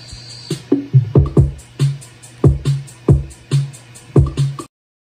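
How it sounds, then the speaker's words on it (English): A bedroom pop drum track plays loud and up front, with punchy kick and snare hits in a steady groove and quick drum fills, then cuts off abruptly. "Altogether, the drums sound like this"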